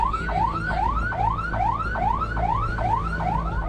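An ambulance siren wails in a rapid, repeating rising yelp, loud and near, over the low rumble of engines in a traffic jam.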